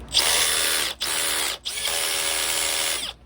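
A DeWalt DCD710 drill drives a screw in three loud, close bursts of steady high motor whine, separated by brief pauses, with no talking.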